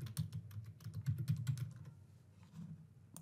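Keys clacking on a computer keyboard, a quick irregular burst of close taps that pauses briefly and resumes with a few more strokes, no voices.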